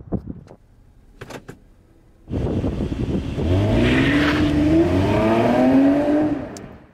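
A Toyota Camry TRD is started and driven. Faint clicks and a few short knocks come first, then the engine catches and holds a loud, steady drone. It revs up into a rising, strained growl that holds near and strong before easing off at the end.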